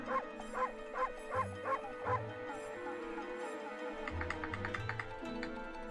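A dog in the Okami video game barks repeatedly at an even, steady pace, about six short barks in a row, followed by a quicker run of soft clicks over a low musical backdrop.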